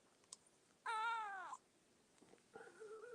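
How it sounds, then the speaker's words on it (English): A cat gives a single clear, drawn-out meow at close range in a quiet room on a cold early morning, preceded by a faint click and followed by soft rustling. "And Van Gogh the cat is right here, wants to say hello"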